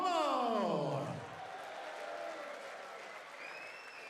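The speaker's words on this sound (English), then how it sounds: "let's hear a massive round of applause for Merva Hummel." Applause from the crowd at a darts tournament finals, a steady round of clapping heard under a voice announcing winners over the PA, fading slightly after the first second.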